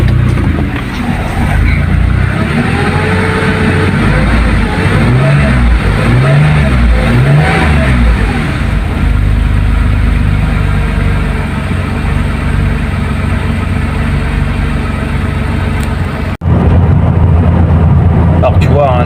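Porsche 911 3.2 engine running just after a cold start, a steady, loud, close mechanical drone with a brief rise in revs partway through and a sudden change in tone near the end, with no speech.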